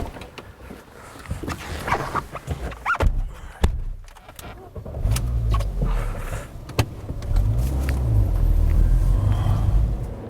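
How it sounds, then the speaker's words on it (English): A Mini Cooper pulls away, its engine rumbling low and steady and growing fuller as it drives off, with a few scattered knocks and clunks early on. "Let's take it out for a spin."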